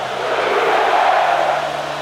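Loud, steady roar of a packed football stadium crowd at a Sooners game, a continuous broad wash of cheering voices with no break.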